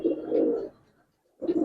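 A female pigeon of the tota phase type gives two close, low cooing calls, each about half a second long, separated by a short silence, with no talking over them.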